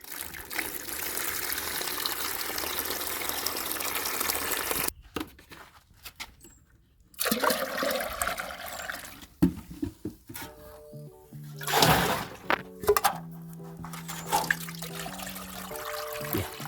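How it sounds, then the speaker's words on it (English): Water pours into a container to dilute manure tea liquid fertilizer, a close trickling and gushing flow with pauses, stopping and restarting in short bursts. "I think it's a bit concentrated, so I'm going to dilute just a bit with water."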